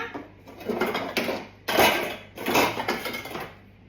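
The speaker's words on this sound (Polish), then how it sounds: "Teraz patelnia" A metal frying pan is handled in a home kitchen before frying salmon, producing several close clanks and scrapes against the stovetop, with one sharper knock in the middle and fading rattles at the end.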